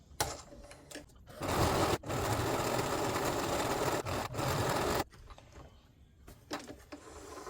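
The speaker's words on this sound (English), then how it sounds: "We're going to use the side of the foot as a guide to run a nice even seam down this" A sewing machine runs a seam on cosplay fabric in fast bursts of whirring stitching. Long runs are broken by short pauses, with quieter clicks and handling sounds near the end.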